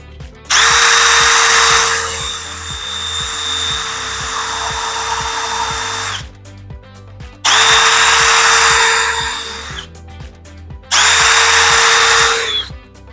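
A power drill bores holes into a plastic garden tower in three long, loud bursts of steady whine, separated by short pauses, close up with no talking.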